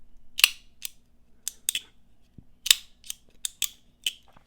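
Winter Blade Factor Eight pocket knife flipper being snapped open and handled, a string of sharp metallic clicks and snaps, some single and some in quick pairs, close and crisp in a quiet room with no talking.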